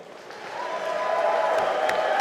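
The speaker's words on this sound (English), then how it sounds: "Give them a round of applause." Audience at a live armored MMA event in Pittsburgh, Pennsylvania breaks into steady applause that builds slightly and holds, a broad wash of clapping with some crowd noise beneath.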